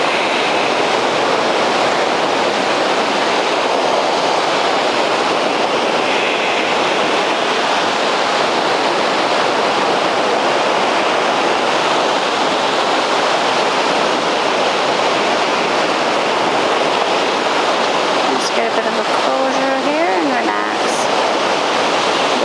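Ocean waves roll in as a steady, loud wash of surf that fills the whole stretch without pause, with a brief voice rising over it near the end.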